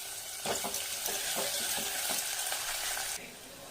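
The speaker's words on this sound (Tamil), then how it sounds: "இப்போ வெங்காயத்தை போட்டுருவோம் போட்டு நல்லா வதக்கிக்கணும்" Sliced onions are sautéed in hot oil with curry leaves and dried red chillies for a spicy potato masala fry. There is a burst of loud sizzling with quick stirring scrapes, and it drops suddenly quieter near the end.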